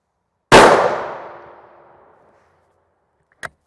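M993 armor-piercing rifle round striking a Level IV armor plate: one loud, sharp impact crack with a metallic ring that decays over about two seconds, followed by a brief faint click.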